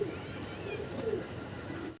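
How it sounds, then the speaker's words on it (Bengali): A pair of cream-bar Danish pigeons coo softly close by, a brief low throaty call against faint background noise. "এখানে আরও একজোড়া ড্যানিশ কবুতর"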